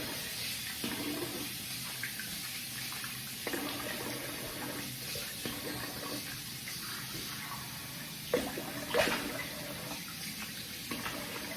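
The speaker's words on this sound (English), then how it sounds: "So I'm gonna rinse the face." Tap water runs steadily in a sink with faint splashing, a few brief louder splashes near the end as water is scooped and rinsed.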